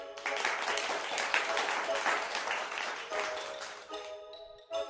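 Crowd of villagers in a cartoon story clapping continuously, a dense sustained patter of applause that fades out near the end, with a brief tonal chime overlapping.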